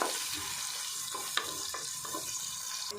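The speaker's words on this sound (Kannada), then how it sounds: "ನೀರುಳ್ಳಿ ಕಟ್ ಮಲ್ದಿತ್ತಿನ ಪಾಡೊಂದುಲ್ಲೆ ನೀರುಳ್ಳಿ ಫ್ರೈ ಆವಡು" Chopped onions frying in oil for a Mangalorean-style chicken curry, giving a steady soft sizzle with a few light stirring scrapes and clicks throughout.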